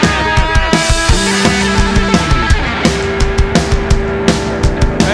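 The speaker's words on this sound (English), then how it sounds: "I play guitar, it sounds like this." A punk band's electric guitar plays live, bright choppy rhythmic strums with sharp percussive hits and drums underneath, loud and steady throughout.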